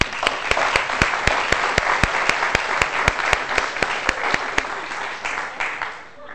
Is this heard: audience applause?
yes